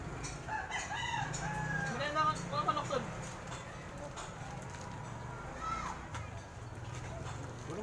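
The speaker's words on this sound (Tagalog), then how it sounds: "Manok." A rooster crows a few times at moderate distance, its calls rising over steady background noise and murmuring voices.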